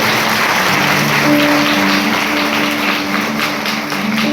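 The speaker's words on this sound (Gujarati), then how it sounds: "જોરદાર તાળી પાડી દેવની સ્તુતિ કરો" Congregation clapping loudly in praise of God at a Gujarati church revival service, a steady dense wash of hands filling the whole stretch with sustained musical tones humming underneath.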